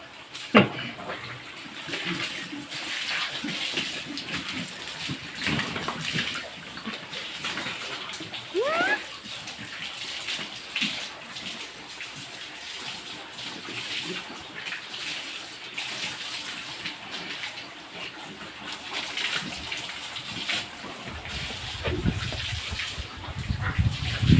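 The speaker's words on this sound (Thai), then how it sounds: "อาบน้ำหมูน้อย" Water from a hose gushes steadily over piglets in a pig pen, a continuous close rushing spray lasting the whole stretch with shifting splashes and a brief high squeal midway, and no one speaking.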